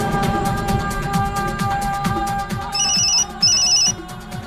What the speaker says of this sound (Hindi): मॉम का फोन है।